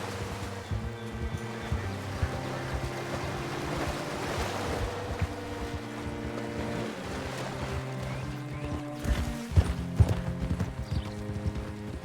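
Horse hooves clip-clop in a steady, even rhythm from Red Dead Redemption 2 on PC, moderately close, over a constant wash of wind and water ambience, with no one talking.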